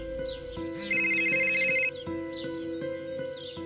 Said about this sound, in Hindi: राजू हेमंत को फोन करता है।